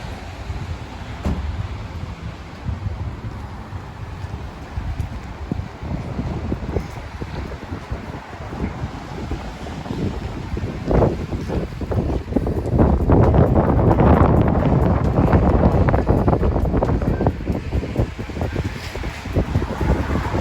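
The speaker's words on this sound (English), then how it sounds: "it is wet and windy, so let's get inside" Gusting wind blows outdoors in wet weather in the North East wild, buffeting the microphone with loud, rough rumbles. The gusts swell stronger and more continuous in the second half, and there is no talking.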